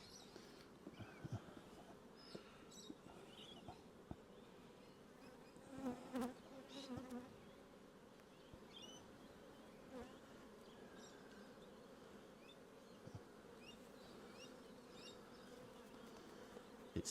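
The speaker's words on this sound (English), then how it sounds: "Bit stroppy, touchy these bees." Honey bees buzz around an open hive during a spring swarm-prevention check, a soft continuous drone with individual bees passing close now and then.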